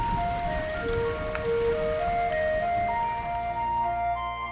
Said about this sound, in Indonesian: Di perjalanan, tiba-tiba hujan turun dengan deras